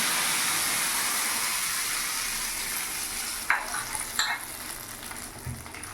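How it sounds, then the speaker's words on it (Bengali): Fried khichuri ingredients being stirred in a sizzling pan, a steady frying hiss throughout with sharper scraping stirs of the spoon near the end, close and fairly loud. "ভালো করে নাড়িয়ে নেবো।"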